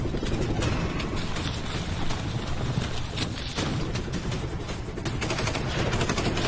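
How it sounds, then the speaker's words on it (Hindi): Heavy movie battle gunfire, loud and nearly continuous across the whole stretch, with dense rapid bursts like automatic weapons layered into a constant roar and sharper cracks poking out. "ये किस पर गोली चला रहे हो?"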